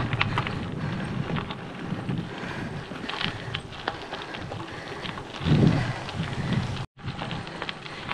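Strong wind buffets the microphone during a bike ride in Tuscany, a loud rumbling roar that swells into a heavy gust before briefly cutting out and returning.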